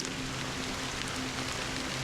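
Steady rain falls in the video game Honkai Star Rail, an even, continuous hiss of drops on surfaces with a faint low hum beneath and no voices.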